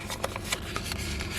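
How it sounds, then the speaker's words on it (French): Paper envelopes being folded along their creases by hand, giving soft close rustles and brief crinkling swipes over a steady low background hum, with no voices. "je viens plier mes enveloppes comme ceci sur les plis"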